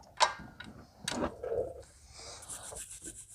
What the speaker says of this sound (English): I'm just tightening up the bolts for the caliper now.